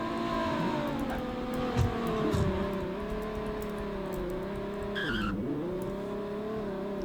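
A cheap sports car with a six-speed manual in the Roblox game Greenville drones steadily at cruising revs, its engine note dipping and rising with gear and speed changes and a brief higher whine, close and continuous with no talk.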